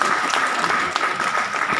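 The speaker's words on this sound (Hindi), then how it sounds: "तो एक बार तालियों से आप लोग के लिए जबरदस्त।" Steady, dense applause from a gathered crowd, continuous clapping throughout with no talking over it.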